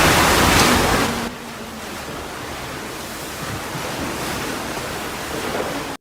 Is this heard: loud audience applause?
no